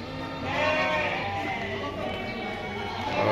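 Goats bleating at the Deonar livestock market, several animals calling over the crowded, noisy bustle of the market with voices talking throughout.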